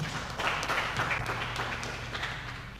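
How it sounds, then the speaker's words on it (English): Audience applause at a candlelight AIDS memorial event, a steady wash of clapping from a gathered crowd, moderately faint and continuous without a clear break. "Another round of applause for Madam."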